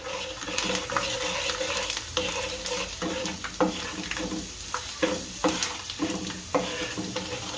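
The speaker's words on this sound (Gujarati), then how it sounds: "હવે લસણ નાખીશું આપણે, અને સાતળ લેશું લસણ, અને તેલમાં સારું સાતળી નાખશું." Garlic sautés in oil for a Gujarati fenugreek seed curry, with a constant sizzle under rhythmic stirring scrapes and metallic clinks of a spoon against the pot, heard up close.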